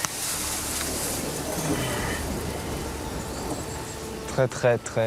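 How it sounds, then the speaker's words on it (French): Heavy rain falls outdoors in Bulgaria as a dense, constant hiss, near and loud, until a person's voice briefly cuts in at the end. "Et quand il pleut ici, il pleut, hein"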